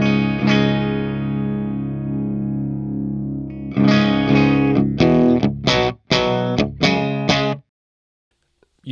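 An electric guitar plays through an ML Sound Lab Amped Oracle with the clean channel's gain pushed into mild distortion, with a long sustained chord followed by several loud, choppy strummed stabs that cut off into silence.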